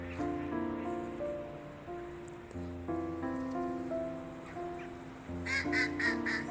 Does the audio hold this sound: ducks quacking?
yes